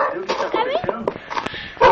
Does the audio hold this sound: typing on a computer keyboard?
no